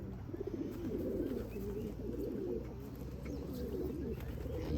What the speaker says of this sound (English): And yeah, look at these birds.